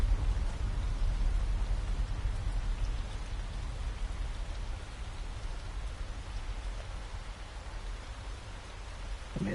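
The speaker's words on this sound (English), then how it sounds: "Oh, goody, rain." Steady rain falling in Lushfoil Photography Sim at East Maddon Park, Northern England, a dense, even hiss of drops at constant loudness with no talk.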